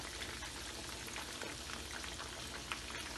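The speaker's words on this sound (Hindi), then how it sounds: "फिश बहुत जल्दी फ्राई हो जाती है, चिकन की तरह इसमें देर नहीं लगती।" Basa fish frying in hot oil in a home kitchen, a steady crackling hiss that fills the background at low level, with fine pops scattered throughout and no talking.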